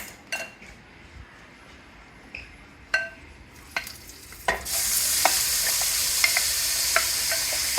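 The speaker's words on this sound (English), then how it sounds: "Make sure your pan is nice and hot, ready for the veggies." Vegetables for chili hit a hot pan with extra virgin olive oil and burst into a loud sustained sizzle after several sharp metallic clinks of utensils against the pan.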